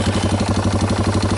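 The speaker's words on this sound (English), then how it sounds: "this four-wheeler starts right up" Yamaha Wolverine 350 four-wheeler engine running right after starting on a cold morning, a loud, close, rapid steady putter with even low thumping pulses and no talk.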